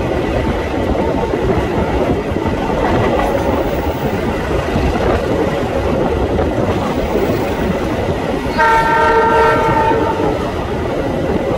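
A moving economy-class passenger train, the Kahuripan, rumbles steadily with clattering wheels, and a loud horn sounds near the end over the continuous rolling noise.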